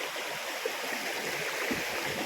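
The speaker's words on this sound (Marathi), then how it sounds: "हे स्वच्छ पाणी झऱ्याचं स्वच्छ पाणी पिण्याचं पाणी आहे आणि झरा चालू झाला." A clear freshwater spring in the Konkan, running after monsoon rain, trickles and flows steadily at a low, even level, a soft continuous wash of water with a few faint knocks.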